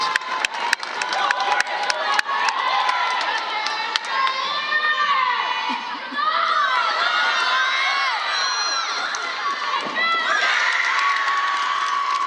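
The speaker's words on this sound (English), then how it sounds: "she gets a big round of applause from both sides" A college acrobatics and tumbling meet crowd erupts in loud cheering, whoops and shouts with clapping underneath, sustained and energetic throughout, with excited voices rising and falling close by.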